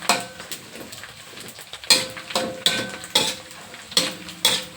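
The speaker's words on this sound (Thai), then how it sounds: "ปลาหมึกทอดนะคะใกล้จะได้ที่แล้วคั่วมันสุกหน่อย" Dried squid being fried and stirred in a pan, a spatula clanking against the metal in repeated sharp strikes over a faint background sizzle.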